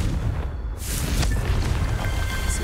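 Confringo spell explosion in Hogwarts Legacy, a loud, deep boom with a bright burst that swells in under a second and leaves a rumbling, noisy tail.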